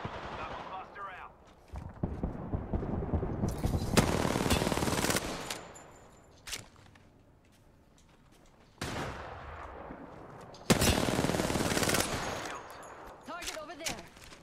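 Automatic gunfire in the video game Apex Legends, long loud bursts of rapid shots broken by quieter gaps, with a player talking over the fight.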